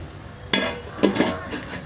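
A lid is set on a cooking pot of marinating bun dough in a village kitchen, giving a sharp metallic clink followed by a couple of quick rattles, close and clear with no talking.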